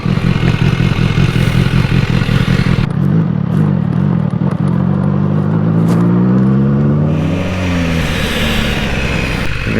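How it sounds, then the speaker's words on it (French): Cars pass on a quiet road with a loud, close engine roar that swells and whirs, then a second vehicle rises in pitch as it goes by near the end. "il y a une bagnole toutes les heures et quand je redémarre, il y en a deux qui passent"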